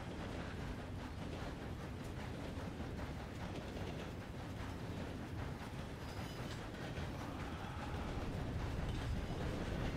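Continuous rumbling rattle of a moving train in a video game, even and sustained with a faint clickety-clack texture, no voices.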